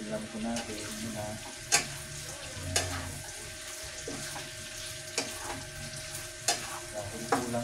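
Tofu and water spinach stirred in a pan with oyster sauce, a soft sizzle and watery bubbling under repeated clacks of the utensil against the pan at irregular intervals, fairly close and moderately quiet.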